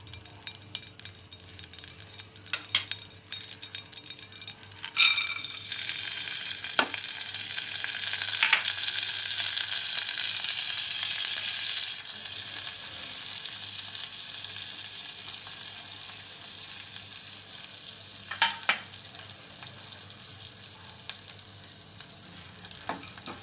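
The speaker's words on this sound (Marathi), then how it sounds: "आता या पॅनमध्येच आपण ड्रायफ्रूटचे तुकडे थोडेसे तुपावर परतून घ्यायचे आहेत" Dry fruit pieces frying in ghee in a pan make a soft sizzle that swells into a brighter, steady hiss partway through, with occasional light clinks of stirring and no talking.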